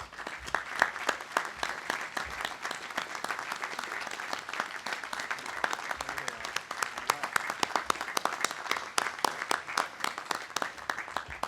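Crowd applauding at Randolph-Macon College's 2015 commencement ceremony, a long, even stretch of many hands clapping at moderate distance, sharp individual claps standing out through the steady roar.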